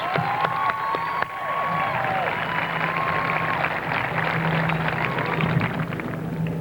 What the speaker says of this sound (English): Let's give them all one rounding set of applause to symbolize all our academic excellence.